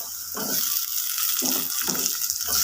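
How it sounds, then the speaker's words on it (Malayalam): Tomatoes go into a pan of frying onions for chicken curry, a loud steady sizzle and hiss running throughout with a few bursts of spattering and stirring. "സവാള വഴന്ന് വന്നിട്ടുണ്ട് അതിലേക്ക് തക്കാളിയും ചേർക്കാം"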